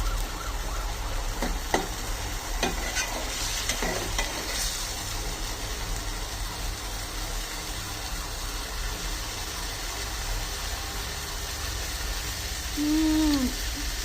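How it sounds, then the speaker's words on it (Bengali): Spice paste cooks down in hot oil for a dried-fish curry, giving a steady sizzle with a few spatula scrapes early on and a faint, distant siren wailing near the end. "আর এদিকে তো আমার মশলা হয়ে গেছে, কষানো হয়ে যেতেছে, মানে আর একটু সময় লাগবে।"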